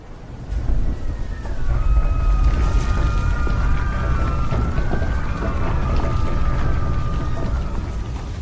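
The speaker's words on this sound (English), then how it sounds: "Bizarrely, it was raining in the middle of the polar winter." Rain effect under polar-winter gloom: a dense, steady wash of falling rain with a faint low rumble, while a thin wavering tone drifts across the middle, continuous and fairly loud with no voice.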